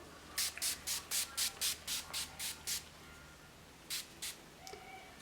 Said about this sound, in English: Just using the Life Proof by Mega Max makeup setting spray